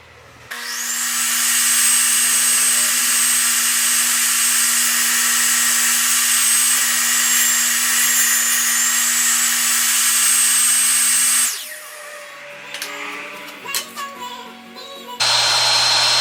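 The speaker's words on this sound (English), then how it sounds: "A table saw will do most of your cutting, and it can be sketchy, but for the most part it's pretty good." Table saw cutting steel parts for a winch bumper on a 1989 Isuzu Trooper, a loud sustained high-pitched whine for about eleven seconds as the blade runs through the material, then winding down before starting up again.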